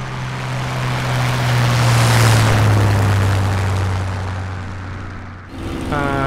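Propeller engine of a Spitfire Mk IX in Microsoft Flight Simulator drones steadily, swelling to a peak and easing back before cutting out briefly and returning with a whining tone.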